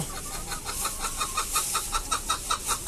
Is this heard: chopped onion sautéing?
no